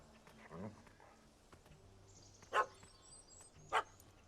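A puppy barking in the video game The Witcher 3: Wild Hunt, two sharp, separate barks over a quiet outdoor background with faint chirping.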